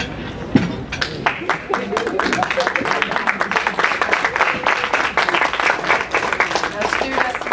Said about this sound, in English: I want you to give your parents and support people a huge round of applause